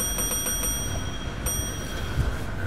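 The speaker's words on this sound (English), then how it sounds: "Ring the bell a few times?" Bell rung a few times in the Roblox video game: several quick, bright strikes with a lingering metallic ring over faint background noise.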